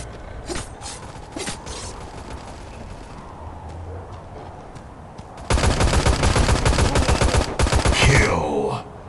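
Rapid automatic gunfire from the mobile shooter Guns of Boom, sparse shots early, then a loud sustained burst of fast bursts near the end with combat noise.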